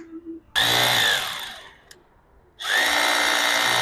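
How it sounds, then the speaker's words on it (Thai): A heavy-duty rotary hammer drill whirs loudly for about a second, spins down, then starts up again at full speed, close by with no voices. "ตัวนี้เรามาดูวิธีการใช้งานของสว่านทั้ง2ตัวนี้"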